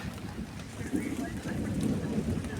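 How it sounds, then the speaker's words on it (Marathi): Steady first monsoon rain falls close by in Konkan with a low, continuous rumble of thunder rolling underneath the downpour. "गडगडल्याचा आवाज येत असेल तुम्हाला"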